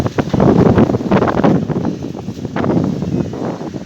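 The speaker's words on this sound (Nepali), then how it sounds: "हावाहुरी चाहिँ झन् बढ्यो" Strong windstorm wind buffets and roars in gusts, blasting against the microphone with surging rumbles.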